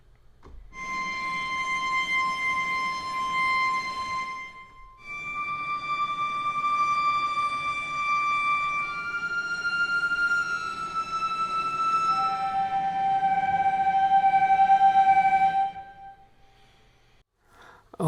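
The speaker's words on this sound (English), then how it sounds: "Let's just check how the emotional cello and the Spitfire strings play together." Emotional cello layered with Spitfire orchestral strings in a sustained, slowly shifting ensemble passage. Long held notes swell and fade over about fifteen seconds with no voices.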